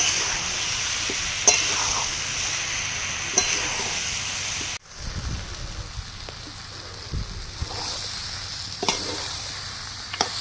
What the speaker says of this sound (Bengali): আবারও বেশ কিছুক্ষণ এই চিংড়িটা দেওয়ার পরে আমি এখন কষিয়ে নেব।